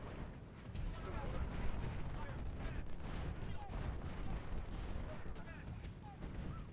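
Artillery and long-range guns fire continuously in a Civil War battle game at Fredericksburg, a dense rumbling barrage of overlapping booms and crackling shots with no pauses.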